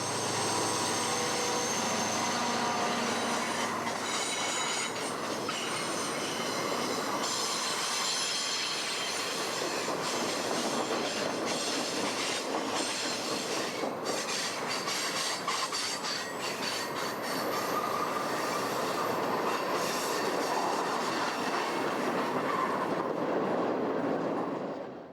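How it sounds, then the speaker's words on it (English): Freight train hauling Boeing airplane parts on BNSF, led by a single rebuilt Santa Fe GP30 four-motor diesel, rolls past with a steady roar of wheels and squealing rails that stays loud for the whole stretch. "The Boeing airplane parts train that runs over BNSF frequently draws a single 4-motor unit, in this case a rebuilt Santa Fe GP30."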